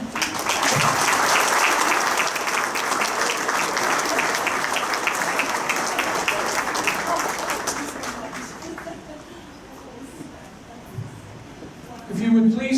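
Sustained applause from an audience at a Carbon County Sports Hall of Fame ceremony in Memorial Hall, Jim Thorpe, a dense even roar of clapping that thins and fades over the last few seconds.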